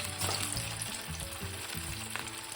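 Hot oil sizzling in a pan before chicken chapli kebabs go in, a steady close crackle with a faint stirring rustle and a low hum beneath.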